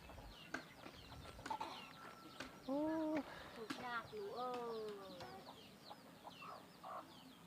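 Chickens clucking in a rural Lao village, several short cackles and calls at moderate distance amid faint ambient sounds.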